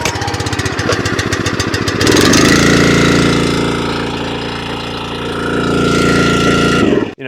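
A Champion 27-ton log splitter's small engine cold-starts outdoors: a rapid pull-start rattle gives way to a loud, steady running drone with slight surges, cutting off abruptly at the end.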